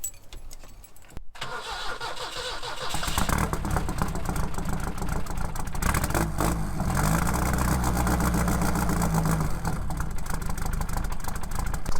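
An old Ford Ranger truck cranks and fires on a cold start, then settles into a loud, steady low idle with a rough, uneven rumble and a few extra mechanical noises, heard up close with no talking.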